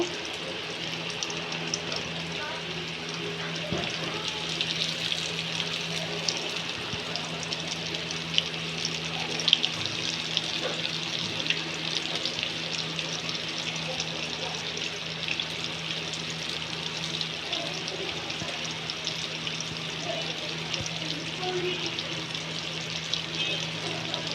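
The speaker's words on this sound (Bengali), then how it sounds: "এখন আমি চিকেনটা তেলের মধ্যে ছেড়ে দেব। একদম লো হিটে আমি আস্তে আস্তে রান্না করে নেব।" Chicken fries slowly in oil on low heat, giving a soft, continuous bubbling sizzle with a faint watery hiss in the background, steady and moderately quiet throughout.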